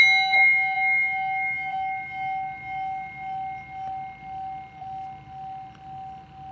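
A bell or singing bowl struck before a tarot reading, its long steady tone ringing and slowly fading over a soft low hum, with no voices.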